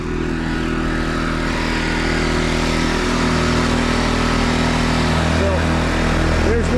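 Generators run side by side with a steady loud droning hum, close by, powering a well pump and a pressure washer through a parallel kit, with the engine note constant throughout.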